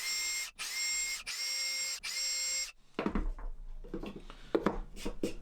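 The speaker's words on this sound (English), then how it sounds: "and drill the holes." A power drill whines loudly in three bursts as it bores holes in a scrap wood rack, followed by softer clicks, scrapes and handling knocks.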